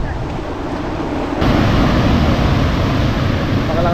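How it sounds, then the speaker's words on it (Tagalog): Strong ocean waves crash and roll in at Ampere Beach in Dipaculao, Aurora, a continuous loud surf roar swelling midway, with wind buffeting the microphone. "Makalakas din ang alon, no?"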